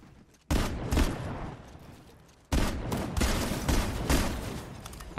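Rapid automatic gunfire in the Fortnite shooter game, two loud sustained bursts of shots close up, the second running several seconds without pause.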